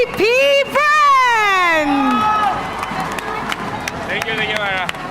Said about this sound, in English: Everybody give a big round of applause to AP